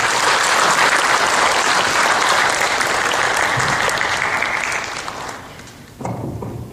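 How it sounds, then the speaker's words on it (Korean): A church congregation gives warm, sustained applause to welcome a visiting missionary speaker, loud and full at first, then tapering off before a voice begins speaking. "나오실 때에 환영과 축복의 마음을 담아서 한번 박수 보내드리도록 하겠습니다"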